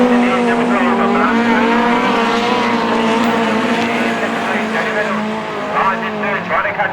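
Autograss race cars roar around a dirt track at St Neots, a loud, steady engine drone with rising and falling revs as the cars pass, while a commentator talks over the racing.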